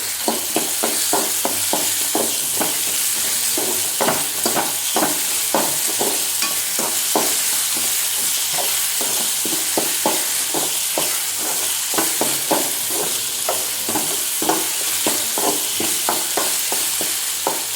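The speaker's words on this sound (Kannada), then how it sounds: "ಈಗ ಇದಕ್ಕೆ ಟೊಮೊಟೊ ಹಾಕ್ಕೊಳ್ಳೋಣ. ಟೊಮೊಟೊ ಒಂದು ಸ್ವಲ್ಪ ಬಾಡಿಸ್ಕೊಳ್ಳೋಣ." Tomato sautés in a pan for masala paddu, a loud, continuous sizzle with regular, rhythmic stirring scrapes throughout.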